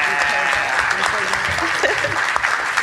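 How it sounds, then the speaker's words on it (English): A live podcast show audience applauds its panel, steady dense clapping from many hands throughout, with some voices mixed in. "how about a round of applause for our esteemed panel?"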